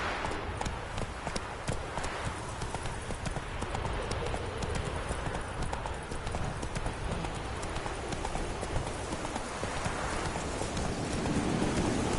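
A horse gallops in The Witcher 3 video game, its hooves pounding out a steady, loud, rapid clip-clop that runs throughout, close and continuous, over an ambient game backdrop.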